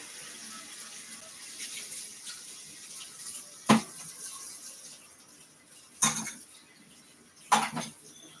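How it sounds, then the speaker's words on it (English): Dishes rinsed under a running tap in a kitchen sink, a soft continuous water hiss broken by three sharp clanks of dishes and cutlery. "so let's get this stuff in the sink. Let's rinse some of this."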